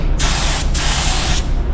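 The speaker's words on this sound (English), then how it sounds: "we're going to start spraying and kind of show you how the clear melts together" Spray gun laying down clearcoat in two close, loud hissing bursts, the first short and the second longer, separated by a brief gap over a constant background hum.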